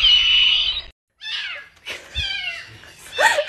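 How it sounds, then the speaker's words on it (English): A cat meows several times in quick succession, close and clear, the calls varying in pitch with brief pauses between them. "I taught my cat to laugh."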